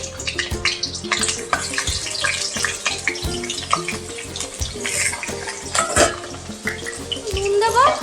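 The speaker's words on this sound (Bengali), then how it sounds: "এবার আলুগুলো আমি ভেজে নিচ্ছি।" Potatoes frying in hot mustard oil in a wok, a dense, steady sizzle with clattering and stirring throughout, loud and close, with no talking.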